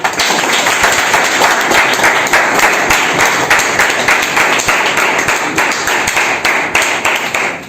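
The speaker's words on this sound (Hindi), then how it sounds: "सबसे पहले एक बार जायसवाल सर के लिए जोरदार तालियां" A crowd claps loudly and steadily for Jaiswal sir at a celebration of exam success, close, dense hand claps filling about eight seconds before tapering off at the end.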